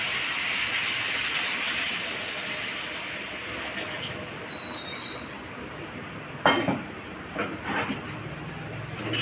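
Water hits hot fried spice paste for a fish curry and bursts into a loud, steady sizzle that slowly fades, followed by a few sharp clatters of a utensil or pot near the end.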